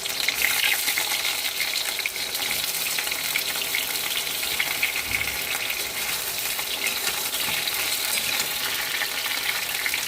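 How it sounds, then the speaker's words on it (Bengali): Potatoes and eggplant fry in a pan of hot oil, giving a steady, dense sizzle and crackle that holds close and even throughout with no talking. "আলু আর বেগুন ভেজে নেব"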